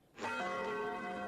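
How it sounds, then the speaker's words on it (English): A house doorbell rings once with a clear sustained bell-like chime that starts abruptly and rings on steadily, heard alone at moderate volume. "rings Okutani's doorbell,"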